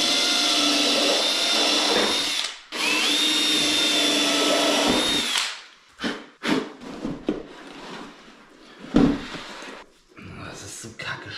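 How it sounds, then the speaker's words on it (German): A step drill bit bores through metal on a Volkswagen T5 Multivan tailgate during a camper conversion, a loud continuous whining grind for several seconds that stops and gives way to brief bursts, scrapes and handling noises. "Wir versuchen mal jetzt genau durch die Mitte zu bohren"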